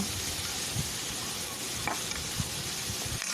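Egg kurma sautéing in a pan gives off a steady, close sizzle with occasional stirring scrapes and soft taps throughout.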